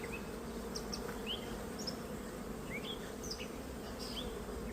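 Honey bees buzz close around the head in a steady droning hum, with individual bees whining past near and far.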